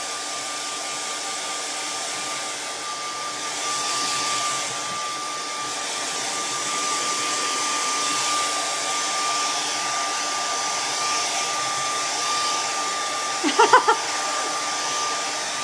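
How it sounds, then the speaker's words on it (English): A hair dryer blows steadily on freshly painted flowers for a long stretch at moderate level, ending in a few brief clicks or knocks near the end. "I'm just going to blow dry my flowers a little bit."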